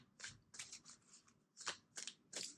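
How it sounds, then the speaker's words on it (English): A deck of playing cards is shuffled in quick, soft riffling bursts, about six short ruffles separated by brief pauses, close and quiet with nothing else heard. "Two more shuffles."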